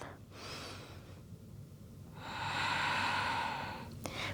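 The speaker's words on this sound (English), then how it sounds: "Take one more breath." A slow, deep breath during a gentle yoga session for the neck and shoulders: a soft breathy inhale, a pause, then a longer, fuller airy exhale, close to the mic with no talking.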